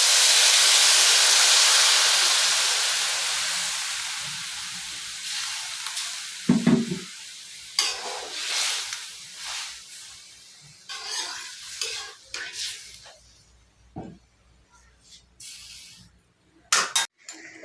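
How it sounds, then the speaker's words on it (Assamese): Banana flower curry bubbling in a pot, with a loud, steady steam-like hiss at first that thins into scattered bubbling, pops and the occasional clatter of stirring. "আঞ্জা উতলি আছে এতিয়া"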